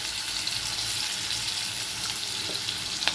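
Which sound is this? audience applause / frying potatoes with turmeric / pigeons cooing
frying potatoes with turmeric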